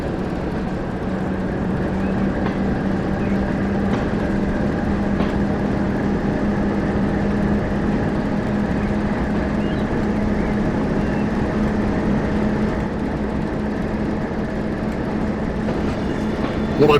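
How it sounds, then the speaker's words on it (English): A Class 09 diesel shunting locomotive pulls away from a station on the West Somerset Railway in Train Sim World 3, giving a loud, steady engine drone with a low hum and faint rail clatter that runs throughout. "And edge the throttle forward, apply a bit of power, and we're off. We are departing the station."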